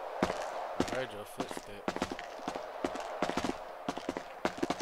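Footsteps in a Grand Theft Auto roleplay video game land as a series of sharp, irregular knocks, some paired and close together, with a brief voice sound partway through.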